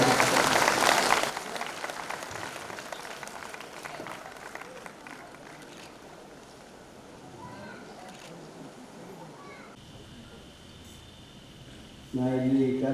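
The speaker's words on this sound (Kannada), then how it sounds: "ಎಲ್ಲ ಜೋರಾದ ಚಪ್ಪಾಳೆಯೊಂದಿಗೆ" Audience clapping bursts out loudly at a gathering for construction workers, then quickly fades into a quieter murmur of crowd noise and scattered voices.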